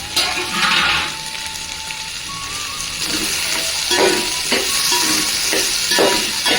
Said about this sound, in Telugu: క్యారెట్, బీన్స్ అండ్ కరివేపాకు 3 వేసుకుంటున్నాను ఫ్రెష్గా.